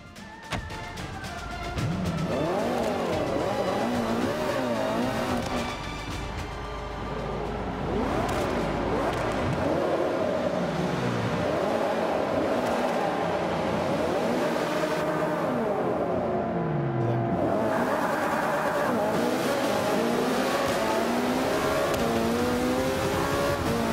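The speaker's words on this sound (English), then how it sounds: "Start the car to begin the race." McLaren P1 in Forza Motorsport 5, starting up then racing, its engine climbing and dropping through repeated gear changes in sweeping revs, loud and continuous after a short quieter opening.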